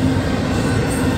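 A CSX intermodal freight train on the New Castle Subdivision rumbles steadily on the track, a loud, continuous roll of wheels and cars with faint squeal, close by and without voices.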